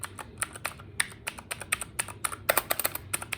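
Typing on a mechanical keyboard with a plastic wrist pad and a slightly hollow-sounding spacebar, with quick irregular clacks in bursts, close and fairly quiet.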